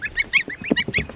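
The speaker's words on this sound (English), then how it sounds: "I'm gonna take these little goslings outside and let them get a taste of grass" Baby geese outdoors on grass, a cluster of small goslings giving rapid, overlapping high-pitched peeping calls, close and fairly loud in quick bursts.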